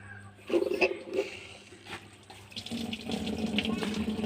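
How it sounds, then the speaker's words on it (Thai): Water rushing into a Toshiba top-load washing machine under repair for E2/E3 errors, a moderate steady flow that builds after a couple of soft knocks, with faint background noise. "ผม ดูน้ำเข้านะ น้ำเข้าแล้วนะครับ"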